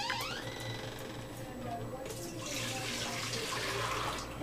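Water pours steadily into rice for rice milk, with a bright, splashing hiss that thickens partway through, set against a low background hum.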